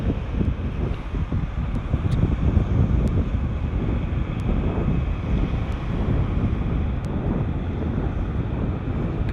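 Strong wind buffets the microphone of a Mavic Mini drone flying over the water near Ludington, a steady, loud rumbling roar with gusty low-end surges throughout and no voices.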